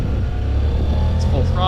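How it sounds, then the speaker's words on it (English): A 2014 Honda CTX700 DCT motorcycle downshifts as it enters a roundabout, its engine droning steadily up close, with a few higher rising tones near the end. "Into this roundabout, you can hear it, see it downshifting."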